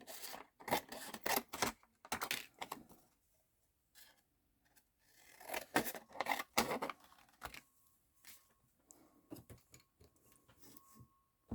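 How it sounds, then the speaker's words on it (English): Scissors snip out small shapes from a sheet of paper during card making, sounding as close, quiet bursts of crisp cutting strokes separated by short pauses. "I'm going to take my scissors and I'm going to cut out some of these smaller items."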